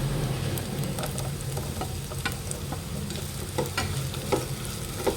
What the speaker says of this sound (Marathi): कांदे आपले छान लाल झालेले आहे आता त्याच्यात आपण गाजर टाकूया